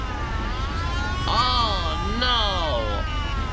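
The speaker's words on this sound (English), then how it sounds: "That was a police car?" A police car siren wails in the Mafia video game, rising and falling in two sweeping cycles over a steady engine rumble, with a man exclaiming over it.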